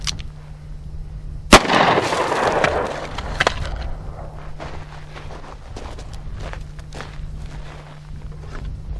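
.357 Magnum revolver, plus P hollow point, fired once: a single sharp, loud report that rings out briefly, followed by faint shuffling and clicks, with no talking.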